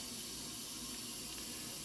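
A cold water faucet inside a home runs in a steady, even hiss of flowing water, close and unbroken throughout.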